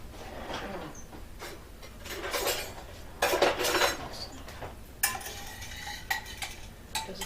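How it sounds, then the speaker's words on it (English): Sauce being spooned onto a homemade pizza, heard as soft scraping and scattered clinks of a metal spoon against a dish and pan, with a busier burst of utensil noise midway and sharper taps near the end. "I'm going to spoon a little more sauce on there."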